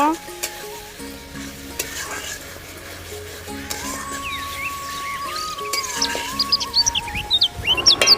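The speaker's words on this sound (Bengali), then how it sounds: "পেঁয়াজ রসুন আদা শুকনো লঙ্কা বেটে নিয়েছি দিয়ে নেড়ে চেড়ে দেবো সুন্দর করে কষিয়ে নেব" A ground paste of onion, garlic, ginger and dried red chilli frying and being stirred in a pan for a tilapia curry, a steady sizzle with scraping strokes, while birds chirp in the background toward the end.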